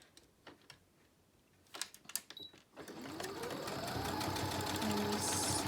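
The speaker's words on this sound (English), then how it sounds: "And we stitch along the curve, just following along that edge." Sewing machine stitching a fabric mask along a curved edge: a few soft clicks and taps of handling, then the motor runs up into a steady fast whirring stitch that continues to the end, close and without talk.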